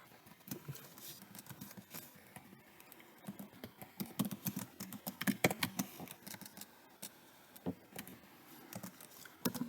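Rapid, uneven typing on a computer keyboard, with dense clusters of sharp key clicks and occasional louder keystrokes, close and continuous with no talking.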